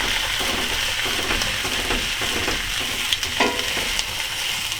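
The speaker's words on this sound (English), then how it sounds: "mixing it in so the chorizo hits the pan and not just the onions" Chorizo and onions sizzle steadily in a frying pan, a constant hiss with occasional stirring clicks and scrapes near the end, no talk.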